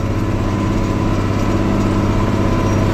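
An MTZ 1221.2 tractor engine idles steadily up close, a continuous loud low rumble with a faint regular throb and no voices.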